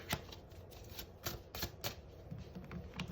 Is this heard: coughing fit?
no